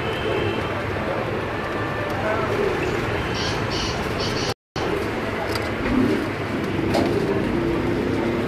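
Pigeons cooing on a rooftop: soft, low coos come through a constant background hiss of outdoor noise, with a brief dropout midway.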